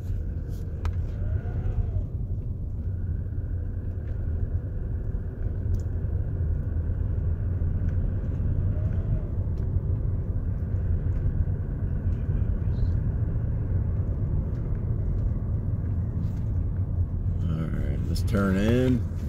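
A Toyota car with a U660E automatic transmission being driven, its steady low engine and road rumble continuous throughout, with a voice talking over it.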